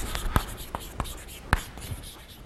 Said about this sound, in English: I'll write it out correctly.